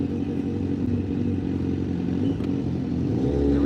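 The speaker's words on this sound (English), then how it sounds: "It's a motorcycle behind me," A motorcycle rides close behind a car, its engine a steady low rumble that grows slightly louder toward the end, with no talking.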